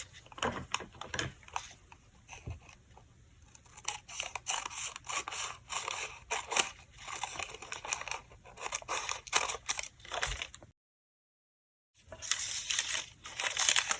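Scissors snip through the end of a paper pop-up card, a series of short crisp cuts and crinkles, close and fairly quiet, with a brief silent gap before the paper rustling resumes.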